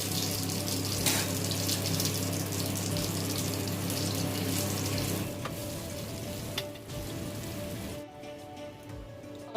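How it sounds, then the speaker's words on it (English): Paneer frying in oil in a frying pan for a dhaba-style paneer masala gives a loud, steady sizzle with dense crackling. It thins and quiets over the last second or so, with no talking. "So in this frying pan, I'm gonna add paneer."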